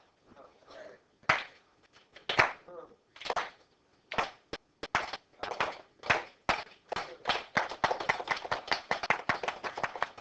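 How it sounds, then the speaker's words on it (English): A classroom of students gives a slow clap, with scattered, uneven hand claps at first that grow denser and faster into a ragged round of clapping from several people nearby. "he deserves a slow clap"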